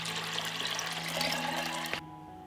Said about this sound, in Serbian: Sipat ću 2 litre vode na kilogram pasulja.